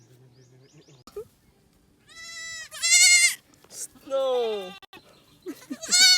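Several loud, close goat bleats on a farm, wavering and high-pitched, come in bursts while a person calls out briefly between them.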